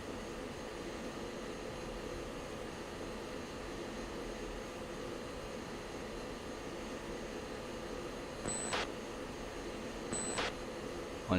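Steady broadband roar of an F-16 jet in the Falcon BMS flight simulator, a continuous loud engine and air rush with two brief sharp clicks near the end.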